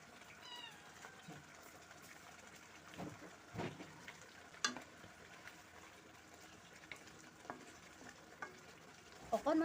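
Fish frying in a pan with onion gravy and tamarind water, a low steady sizzle broken by a few sharp stirring knocks and clinks, with a faint cat meow near the start.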